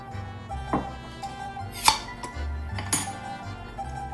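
A jar lid pops open in a kitchen with two sharp metallic clicks standing out over quiet clinking and handling noises.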